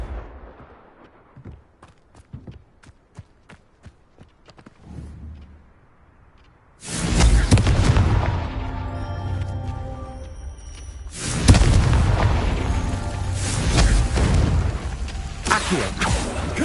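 Confringo spell explosions in the Hogwarts Legacy video game: after several seconds of quiet clicks and light taps, two heavy booming blasts erupt, each followed by a long rumbling, crackling tail.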